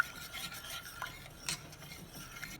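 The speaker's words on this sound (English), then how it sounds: "Mix well without lumps." Grape juice being stirred into a thickening pudding mixture in a pot over low flame, soft scraping and rubbing strokes close by at an even rhythm, faint and without voices.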